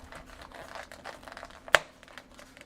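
A plastic lid snapped onto a milk tea shaker cup, giving one sharp, close click over faint handling rustle.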